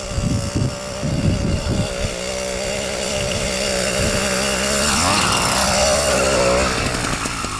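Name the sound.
100cc engine push bike climbing steep hill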